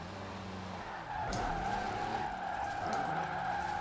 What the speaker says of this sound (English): It does spin those rear wheels though.